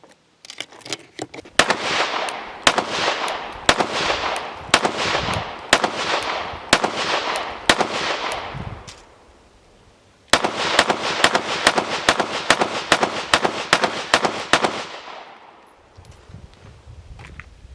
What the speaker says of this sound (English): Really enjoyed shooting these Hellcats.